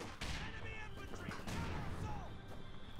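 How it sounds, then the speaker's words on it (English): Mortar and gunfire in the Company of Heroes 2 video game, heavy repeated blasts and crackling rifle shots layered with whistling incoming shells, loud and busy, with someone talking over the battle. "Wow, a lot of mortars coming in."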